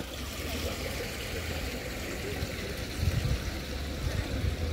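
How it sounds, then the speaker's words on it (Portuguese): A stream of running water flows toward a lake in the Rio de Janeiro botanical garden, a steady broadband rush and gurgle with faint voices in the background. "A água que corre, ó, vai direto pro lago."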